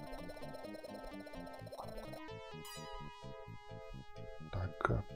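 Frog croaks in the Mega Drive game James Pond play over chiptune music and jingles, with a short burst of louder croaking near the end.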